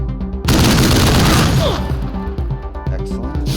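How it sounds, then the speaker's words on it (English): In the video game Wasteland 3, a gunshot bursts out loudly, its sharp crack followed by a ringing, gradually fading tail and a few lighter impacts. "Taking the shot."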